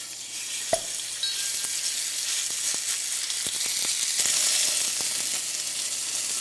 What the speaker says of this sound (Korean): 자 지금부터 고기를 구울 거예요